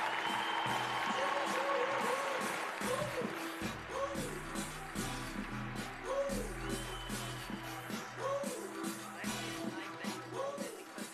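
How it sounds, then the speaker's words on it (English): Audience applause for the CEO at a netball cup ceremony in Swakopmund, Namibia, a faint crowd clapping under a repeating musical melody and low tones, continuing throughout. "Please give him a very honorable round of applause."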